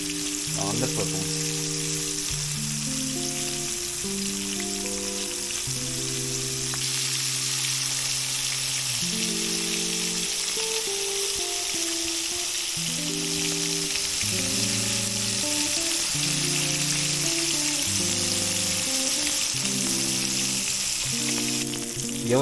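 Flipped yellow perch fillets fry in a hot pan on the stove, giving a strong, unbroken sizzle and crackle for the whole stretch, with music layered on top.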